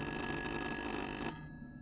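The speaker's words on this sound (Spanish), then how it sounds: "¿Está sonando el teléfono?" A telephone rings in the horror video game Little Hope, a steady, buzzing bell tone that cuts off sharply near the end, leaving a faint low hum.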